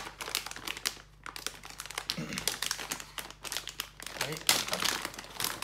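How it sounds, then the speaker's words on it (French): Plastic packaging around a Veetop Cat 8 SFTP network cable is unwrapped up close, giving loud, continuous crinkling and crumpling in bursts, with a brief spoken word partway through. "Et puis voilà, on va déballer ça"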